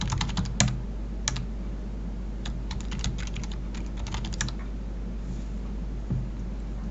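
Rapid bursts of keystrokes on a computer keyboard as a username and password are entered, clustered in quick runs with short pauses, close and fairly quiet against a steady background hum.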